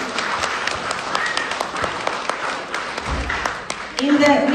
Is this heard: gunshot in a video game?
no